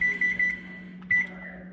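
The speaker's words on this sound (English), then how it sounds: "I'm gonna go ahead and preheat the oven to" An oven control panel beeps while being set to preheat: three quick short beeps, a pause, then one more beep over a faint steady hum.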